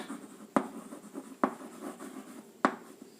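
A teacher writes on a board during a Class 10 chemistry lesson on acids, making three sharp, distinct taps spaced about a second apart over steady quiet scratching, fairly close with no speech.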